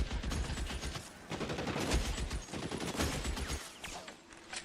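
Rapid, continuous gunfire in L.A. Noire crackles throughout as overlapping shots and automatic bursts, steady and fairly loud with no clear pauses.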